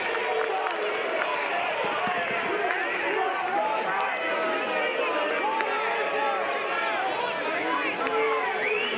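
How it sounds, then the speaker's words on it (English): A small but vocal crowd at a college baseball game between Coastal Carolina and Clemson, with a steady din of overlapping shouts and chatter that carries throughout, while a nearby voice talks over it. "It's not a huge crowd, it's a vocal crowd."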